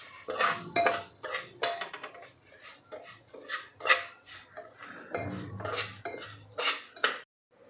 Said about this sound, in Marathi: आता जे राहिलेलं तूप आहे त्या तुपामध्येच घालायचं आपल्याला भरडा आणि सोनेरी रंगावर आपल्याला भाजून घ्यायचं आहे